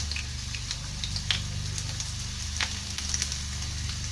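Garlic sautéing in a pan for a vegetable soup gives a soft, steady sizzle and crackle, quiet and close, with a few brief pops and no talking.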